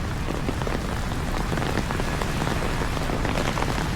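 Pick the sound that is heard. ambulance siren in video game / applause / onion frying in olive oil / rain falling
rain falling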